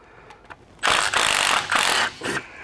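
An 8mm socket on a ratchet loosens the U-strap bolts of a front drive shaft, giving a few close, loud bursts of rapid clicking.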